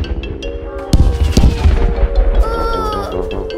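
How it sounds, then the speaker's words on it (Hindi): Cartoon fireworks bang and crackle loudly in a rapid burst of sharp explosions, with whistling tones trailing off afterward. "अब समय आ गया है जबरदस्त पटाखों का।"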